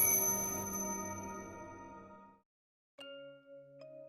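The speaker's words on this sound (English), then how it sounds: "I hear bells." Bells ring out with a bright, clear tone and decay into a brief silence, then lighter chiming strikes follow, all close and without voices.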